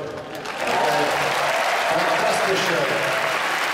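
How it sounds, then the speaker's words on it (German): Concert audience in Berlin applauding two Stockholm musicians as they are introduced, swelling from a brief lull into loud, continuous clapping while someone speaks briefly over it. "Applaus bitte."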